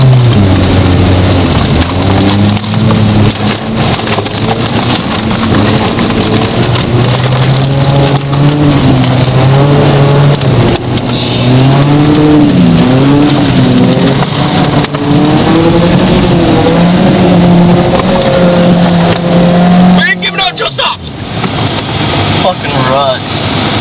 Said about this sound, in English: Class B mud road in the Geo.